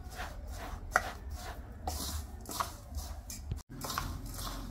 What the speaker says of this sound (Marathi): हे बघा असं मिक्स करून घ्यायचं आहे